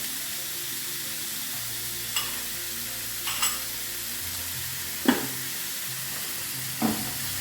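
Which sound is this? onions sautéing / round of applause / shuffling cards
onions sautéing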